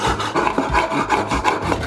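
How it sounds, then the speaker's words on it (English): Threaded rod is being cut to length for a timber floating shelf, giving a steady, rhythmic rasping saw stroke that repeats back and forth at close range. "Now it's time to cut our threaded rod, and we want 2 of these at 200 mil long."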